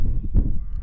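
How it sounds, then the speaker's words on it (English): Weaned sheep on a ranch bawl in a brief, loud bleat that rises over steady low background noise, heard close by with no talk. "bawling in the back with the sheep that are being weaned"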